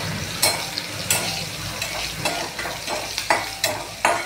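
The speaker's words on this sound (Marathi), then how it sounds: "चांगल्यापैकी परतू द्या तिला" A spiced tempering is sautéed in a pan until crisp, with loud rhythmic scrapes of a spoon stirring roughly every half second over a continuous close sizzle.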